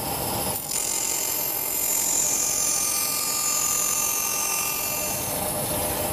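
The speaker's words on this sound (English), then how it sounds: "So I'll just cut this up." A power saw cuts through a wooden board being trimmed to width in a woodworking workshop, a loud, steady high-pitched whine running unbroken for about six seconds, with a brief dip near the start.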